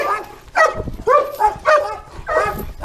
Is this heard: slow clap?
no